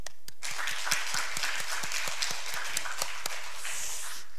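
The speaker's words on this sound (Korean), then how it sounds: "하나님께 영광의 박수" A church congregation claps together, with a dense run of sharp hand claps rolling steadily and close throughout before thinning near the end.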